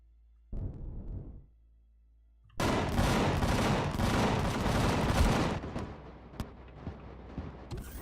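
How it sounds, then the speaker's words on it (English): Ship-mounted guns blasting in the space game Empyrion, a loud dense burst of rapid automatic fire lasting a few seconds after a short earlier rumble, then trailing off into scattered shots and sparse pops. "Oh, I'm not even landed yet, and my guns are going crazy right now."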